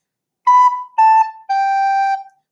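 A wind instrument plays a short measure of three separately tongued notes, each attack clearly cut off with brief gaps between them, the last held longest; clear and close with no talking.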